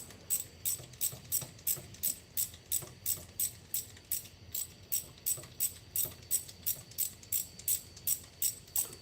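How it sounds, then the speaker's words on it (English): A ratchet wrench turns steadily on a fastener in a home garage, giving a regular run of sharp metallic clicks at about two per second, close and clear with no talk. "Finally was able to get a wrench on here, so this will speed up the process a little bit."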